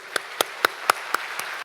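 Slow, rhythmic hand claps ring out at a university president's inauguration ceremony, six evenly spaced sharp claps over a low hum of room noise.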